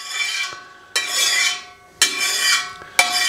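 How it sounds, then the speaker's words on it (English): A metal spatula scrapes deer sausage across a cast iron pan in three long, loud strokes, each starting with a sharp metallic attack and fading into a gritty rasp, with no talk. "you can use a metal spatula on cast iron."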